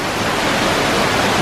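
A giant indoor water fountain at a science museum gushes as a loud, dense, steady rush of splashing water, close by and continuous with no voices.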